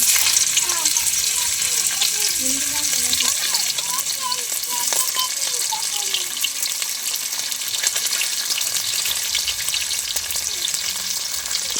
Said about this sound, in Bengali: পনিরটা আমাদের ভাজা হয়ে গেছে